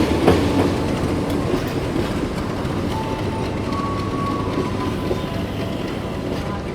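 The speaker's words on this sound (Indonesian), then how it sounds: "ini jalur 2 masuk kereta api Seribilah utama dari stasiun Rantau Prapat tujuan Medan" The Sribilah Utama passenger train, hauled by a locomotive, rolls into platform 2 of a station in Medan with a steady, rumbling clatter of wheels on rails, a brief high squeal midway, and loud, continuous close-by motion.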